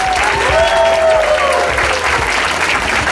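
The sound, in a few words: audience applause for the Premier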